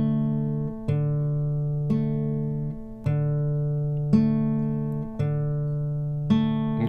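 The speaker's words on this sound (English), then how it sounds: "if you don't have a thumb pick, that's okay. You could just go like this." An acoustic guitar is Travis picked with bare fingers and no thumb pick, giving a warm, steady pattern of plucked notes repeating about once a second with no talk.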